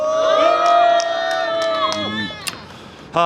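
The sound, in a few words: applause and cheering from crowd at press conference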